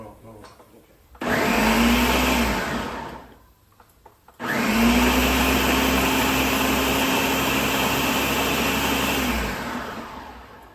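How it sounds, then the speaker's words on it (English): A blender whirs loudly for about two seconds, stops briefly, then runs again steadily for several seconds before winding down. "We're gonna put it in the blender."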